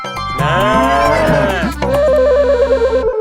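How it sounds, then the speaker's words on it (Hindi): A buffalo lows in a long, loud, groaning call that swells and wavers for over a second, then gives way to a steadier droning tone to the end. "ये ये भैंसे की आवाज कहाँ से आ रही है?"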